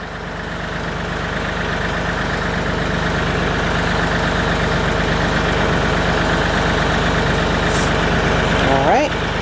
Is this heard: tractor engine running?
yes